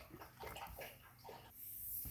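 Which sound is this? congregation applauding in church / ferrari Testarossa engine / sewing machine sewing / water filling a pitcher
water filling a pitcher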